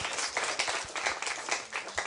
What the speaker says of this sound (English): A round of applause for both sides.